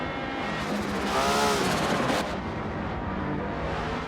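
Race cars in Forza, running in Class D, launch off the line together, a loud rising roar of engines with a brief tire squeal in the middle.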